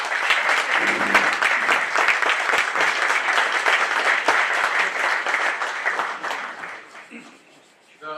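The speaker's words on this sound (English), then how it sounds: "Please give another round of applause." An audience at a business luncheon with Canadian companies claps in a sustained round of applause, crisp individual claps over a dense steady wash that tapers off near the end.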